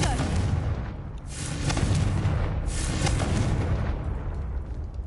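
A Confringo blasting spell in a Harry Potter video game bursts into a loud explosion, with a booming blast and crackling debris spread over several seconds beneath a dense, rumbling game soundscape.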